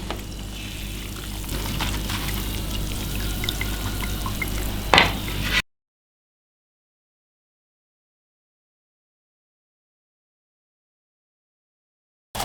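Steady crackling sizzle of thin potato chips deep frying in hot oil for several seconds, with a brief stir or clatter, then silence.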